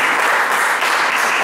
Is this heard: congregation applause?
yes